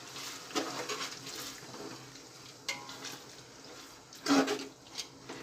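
Mild and spicy lavingiya chillies being mixed into a pan for dungaliyu, soft sizzling under intermittent scraping spatula strokes and a few sharper clinks against the pan, no talking.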